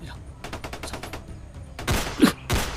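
Gunfire heard outdoors in thick, quiet brush, a few sharp bursts and cracks in the later part of the clip, fairly loud and distinct over a low background where faint voices murmur.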